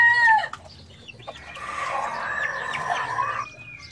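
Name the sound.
rooster crowing and clucking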